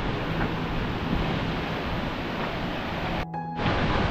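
Stream water flows near a rock-cut temple carved into laterite rock in the Konkan, making a steady broadband rush. A brief dropout comes near the end before the flow resumes, and no one speaks.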